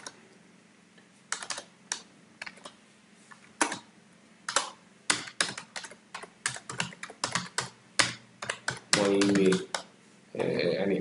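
Keys clatter on a computer keyboard in irregular bursts of clicks, close and fairly clear, with a steady low hum beneath and a brief buzzing noise near the end.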